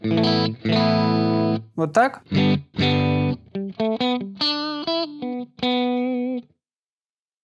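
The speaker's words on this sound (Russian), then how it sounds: "Гитара без обработки звучит" Clean electric guitar notes and chords ring out one after another, with a brief spoken remark.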